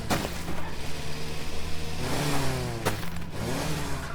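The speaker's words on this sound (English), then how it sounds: "I love the sound of this new tractor" Tractor engine in the farming game Farm Together, a steady mid-pitched motor drone that revs up and shifts pitch a couple of times, close and continuous with no talk over it.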